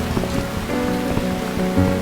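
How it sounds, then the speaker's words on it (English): Steady rain pattering on a surface in a horror game setting, with dull thumps and a low droning tone beneath the continuous, fairly loud downpour; no voices. "bloody rain."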